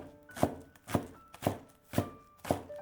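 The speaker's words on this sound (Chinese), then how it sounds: "几颗小葱切成葱花。" A knife chops scallions into small pieces on a cutting board, five evenly spaced sharp thuds about half a second apart, quiet and close with no talking.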